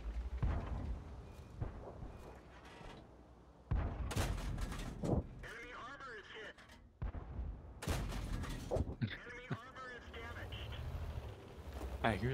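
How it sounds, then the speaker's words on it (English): Tank cannons fire in a World of Tanks battle, with sharp blasts and bursts of gunfire heard under steady talk from several players. "I hear a lot of shots, but no hits."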